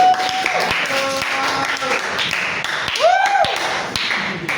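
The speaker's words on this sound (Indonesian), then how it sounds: "tepuk tangan untuk Pak Wali" A small group in a classroom gives a few scattered, sharp claps for Pak Wali; the sparse, uneven hits fall among other room noises and brief tonal sounds, with voices faintly present.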